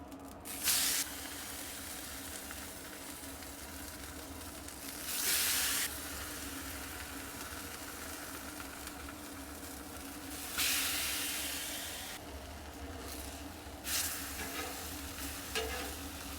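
Liquid sprayed onto a hot Blackstone griddle while cooking birria quesa tacos: several short bursts of spray hiss over a constant sizzling bed, near and fairly loud.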